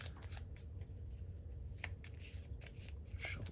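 A deck of cards from a board game is shuffled by hand, a soft continuous riffling and rubbing with a few crisp slaps, close and quiet with no talking.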